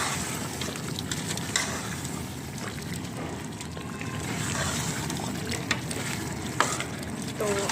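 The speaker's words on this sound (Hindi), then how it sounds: "5 से 6 मिनट तक अच्छी तरह भून लिया इसे।" Meat for Peshawari namkeen ghosht fries in a wok (kadhai) with green chillies, giving a steady close sizzle and crackle, with occasional stirring scrapes and small clinks throughout.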